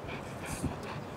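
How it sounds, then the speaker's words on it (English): German Shepherd dog panting softly and steadily in the background, a faint rhythmic breathing with a slight whimper partway through, no talk over it. "German Shepherd. This is the main one."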